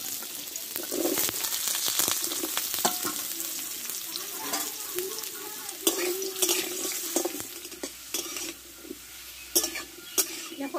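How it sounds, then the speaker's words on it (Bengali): Potatoes frying in white oil in a hot wok, a continuous loud sizzle with frequent scraping and stirring clatter of a spatula against the metal, heard close up without talk. "দেখো আলুটা ভালো করে কষে নিব"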